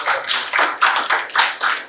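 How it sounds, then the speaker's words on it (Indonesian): A small class in an Indonesian lesson clapping for a student group, a brief burst of close handclaps in an uneven rhythm. "Tepuk tangan dulu buat Brenda dan teman-teman."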